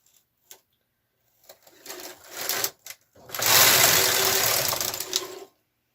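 A KR 230 knitting machine carriage slides across the bed to knit a row. Short rattles come first, then a loud, sustained mechanical whirring pass of about two seconds, close up, with no talk.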